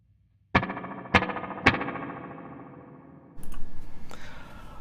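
Electric guitar chords played through a Danelectro Spring King spring reverb pedal: three strummed chords in steady succession, each ringing out with a long metallic spring tail, then a brighter clattering strum near the end.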